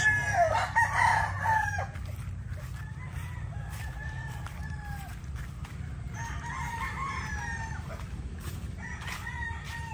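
Chickens and roosters at a pullet range on a poultry farm crow and cluck repeatedly, several overlapping calls near and farther off over steady low outdoor rumble.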